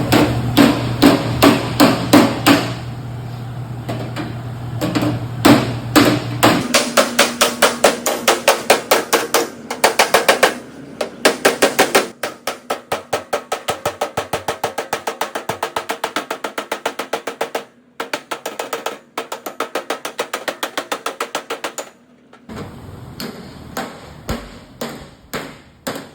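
Hammer blows on the metal body of a Chevy Nova, rapid repeated ringing strikes in long steady bursts broken by short pauses, close and sharp, with no talking.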